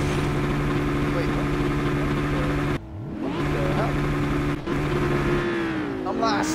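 A Ford Sierra Cosworth idling in the Project Cars racing game, a steady mid-pitched engine hum with a couple of brief revs and dips, under a person talking.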